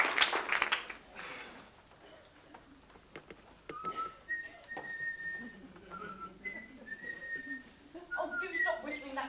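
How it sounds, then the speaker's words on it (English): Someone whistles a wandering melody in clear sustained notes during a stage performance of The Importance of Being Earnest, with brief bursts of clatter and voices around it. "do stop whistling that ghastly tune"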